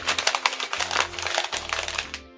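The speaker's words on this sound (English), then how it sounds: "you can take it and crumple it up" Paper crumpled by hand up close, a dense run of crackling, crinkling bursts for a couple of seconds before stopping.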